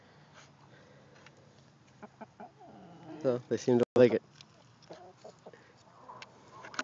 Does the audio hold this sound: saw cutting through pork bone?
no